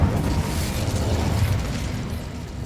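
An Incendio fire spell is cast in a video game, a sustained loud whooshing burst with a low rumble and crackle that holds steady for a few seconds.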